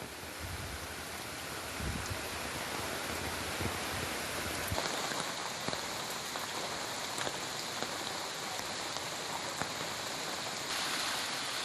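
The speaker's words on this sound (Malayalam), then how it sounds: "പാലക്കാട് വാണിയംകുളം പനയൂരിൽ ശക്തമായ മലവെള്ളപ്പാച്ചിൽ" Flash-flood water pours down from the hills at Panayur in Vaniyamkulam, Palakkad, as a steady, loud, broadband rushing roar that continues unbroken throughout with no voices.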